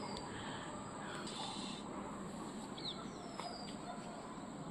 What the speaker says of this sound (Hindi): चिड़िया खेलती रहती है, उड़ती रहती है।